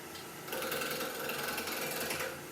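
A small machine spins steadily at about half speed, around 1600 RPM, giving a close, continuous whirring hum with a fine mechanical buzz that holds even throughout.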